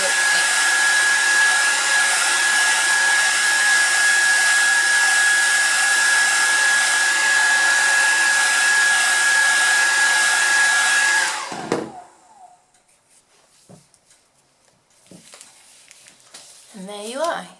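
A heat gun blows hot air on its high setting to melt the decoration around a homemade candle, a loud steady whoosh that runs alone for about eleven seconds and then cuts off, leaving near silence with faint handling noises.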